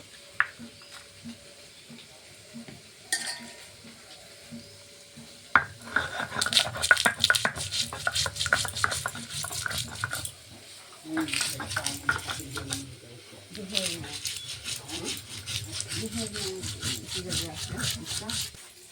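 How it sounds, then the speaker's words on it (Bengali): Green and dried chillies are ground into a paste with rhythmic rubbing and scraping strokes that come in bursts, pause, then resume at close range. "কাঁচা লঙ্কা, শুকনো লঙ্কাটা বেটে নেব।"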